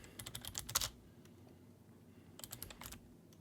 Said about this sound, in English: I'm just typing this so I know